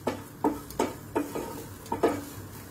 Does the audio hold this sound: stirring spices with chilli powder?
yes